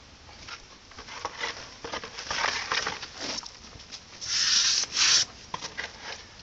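A brush scrubs stain onto restored sandstone brick, giving soft, close rubbing strokes in an uneven rhythm, with a couple of brighter, louder swipes near the end.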